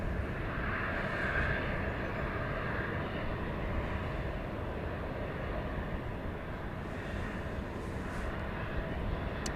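Southwest airliner at Dallas Love Field, a steady broad jet engine roar from a distance, continuous and even throughout with no talk.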